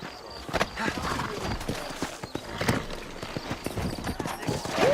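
Horse hooves in Red Dead Redemption, a rhythmic clip-clop of several steps with a faint snort or whinny, close and moderately loud over ambient game sound.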